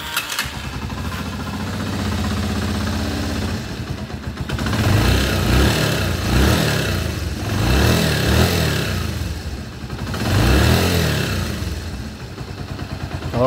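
A Honda TMX 125 Alpha motorcycle engine with a noisy timing gear runs close by, idling steadily and swelling into several revving surges, with no talking.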